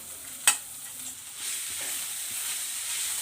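Pounded amla and chilli chutney stirred in a hot pan, one sharp knock at the start followed by a soft, even sizzle and faint scraping, close and without talk.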